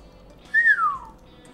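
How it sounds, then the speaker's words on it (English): One person whistles a single bright, near note that rises slightly and then slides down in pitch, lasting about half a second. It sounds alone against a quiet background, without any talk. "I'm not gonna whistle every time."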